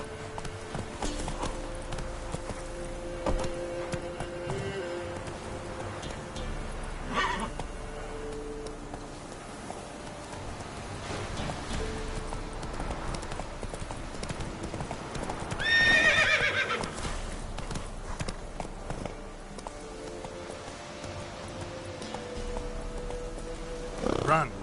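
Roach the horse in The Witcher 3 video game galloping in a steady rhythmic clip-clop of hooves throughout, with a loud whinnying neigh near the middle over a quiet game-world background.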